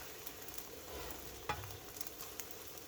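An omelette frying on a flat-top griddle, with a faint, steady sizzle and a brief scraping clink partway through.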